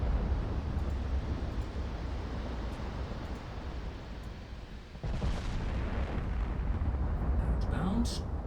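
Naval gunfire from a battleship's high-explosive salvo in the warship game Ultimate Admiral Dreadnoughts: a continuous loud rumbling roar with a fresh surge of booming blasts about midway, followed by sharp high crackles near the end.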